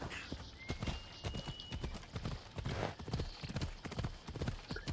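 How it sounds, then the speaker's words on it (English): Horse hooves clip-clopping in a PS4 video game, a steady quick rhythm of close, crisp hoofbeats that carries through the whole stretch, with a faint whinny and no talking. "My trusty steed."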